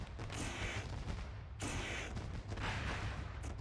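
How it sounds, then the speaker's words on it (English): Fireworks popping and crackling in dense bursts at a truck race at Eldora, loud and continuous, with a brief gap before another volley, no talk over them. "As you hear the fireworks going off in the background"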